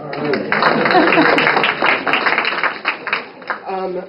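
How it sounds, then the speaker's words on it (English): Audience applause at a Wakulla Wetlands talk, a dense burst of many hands clapping close and loud, thinning into scattered claps before a voice begins at the end. "give yourselves a round of applause for being here and for showing up today"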